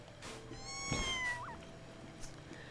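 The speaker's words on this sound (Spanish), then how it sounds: "A ver, busquemos un maullido. Que haga miau, miau." A single short cartoonish cat meow from a kitten in the video game Mika and the Witch's Mountain, fairly faint over quiet game ambience, with a rising and falling tonal cry.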